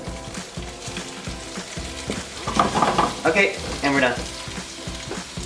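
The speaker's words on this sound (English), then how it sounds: "So now the fire's at a pretty high heat. You can hear that sizzle." Potato cubes fry in oil and Irish butter over high heat in a pan, giving a loud, steady sizzle with crackles and stirring clatter, while a person speaks briefly near the end.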